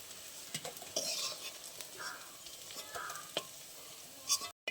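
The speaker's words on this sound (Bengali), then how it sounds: "আমার লাল লাল করে ভাজা হয়ে গেছে কোপ্তাগুলো" Pumpkin koftas frying in oil, a fairly quiet steady sizzle punctuated by clicks and scrapes of a spoon stirring and lifting them, ending in a brief cutoff.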